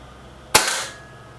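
A single sharp shot from a Reximex Accura air rifle, close and loud, with a brief crack and a short decaying tail against a quiet background.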